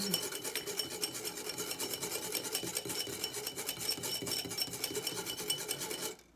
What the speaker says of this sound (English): So just keep stirring until it's really well blended.